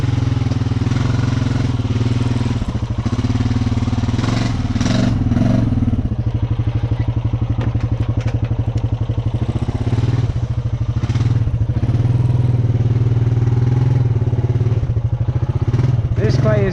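Motorcycle engine labouring hard as the bike struggles through a rut in sticky clay, a loud, close, continuous low drone with clattering knocks, with a rider talking over it.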